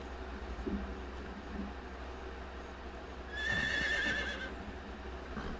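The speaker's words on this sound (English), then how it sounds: "There's a horse. I swear I heard it." A horse whinnies loudly partway through in the video game Metal Gear Solid 3, a rising-and-falling neigh over low background hum, with a faint earlier snort or hoof sound.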